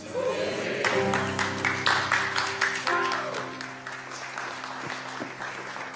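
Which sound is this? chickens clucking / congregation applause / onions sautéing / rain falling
congregation applause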